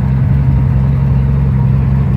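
A 1966 Plymouth Belvedere four-door police patrol car cruising along, its engine giving a loud, steady, low rumbling drone heard from close by with no talk.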